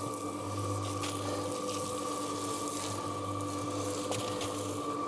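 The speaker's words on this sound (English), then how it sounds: "Throw a bit more water in there." Water poured steadily into a cement mix for laying footing blocks for a DIY annex, a continuous splashing flow with no pauses and no talking.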